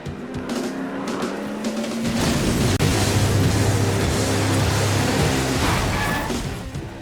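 A combat racing car from the video game Jak X: Combat Racing revs and speeds away, engine whine climbing into a loud roaring drive with a sharp clunk partway through, then fading slightly at the end.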